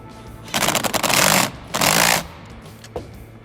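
A nut being tightened onto a car battery terminal with a power ratchet or impact tool during a 2014-2019 Chevy running board install: two loud rattling bursts of about a second each, close up, then a faint tap.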